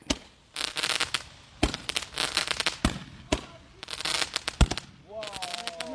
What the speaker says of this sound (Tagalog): sa kabilang kalye meron din nagpaputok